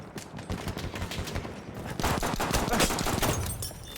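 Rapid gunfire crackles in the Sinai Desert in Battlefield 1, with dense overlapping shots and a louder burst of fire midway, near and sustained throughout.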